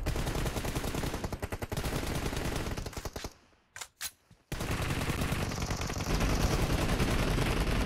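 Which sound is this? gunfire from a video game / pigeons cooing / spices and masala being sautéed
gunfire from a video game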